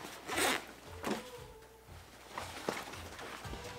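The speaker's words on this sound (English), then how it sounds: "there's a zipper pouch that opens up, and if I undo these, which you could like put your sleeping pad on and unzip this" A zipper is undone on the bottom sleeping-bag pouch of an Osprey Xena 85 hiking backpack, heard as a few quick, close rasping pulls with short pauses between them and no talk.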